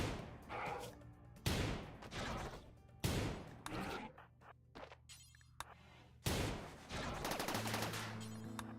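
Gunfire in a space video game: several separate loud blasts in an irregular rhythm, each trailing off before the next, with quieter mechanical noise between shots.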